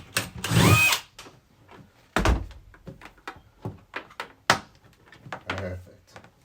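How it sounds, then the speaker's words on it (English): A power drill whirs in a short burst, drilling a hole in a plastic bucket cover for maple sap collection, followed by thunks and clatters of plastic being handled, with brief talk between the noises. "Lon is going to drill the hole in each cover"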